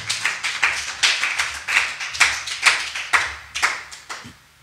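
Church congregation applauding to acclaim the Lord during a sermon, a steady run of loud, rhythmic clapping bursts that tapers off at the end.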